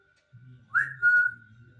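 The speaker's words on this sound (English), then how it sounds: "Alexa, whistle." An Alexa smart speaker plays a short whistle, a single clear rising-then-held tone lasting about half a second, heard over a faint low hum.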